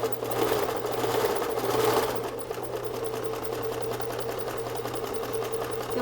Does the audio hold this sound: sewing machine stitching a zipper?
yes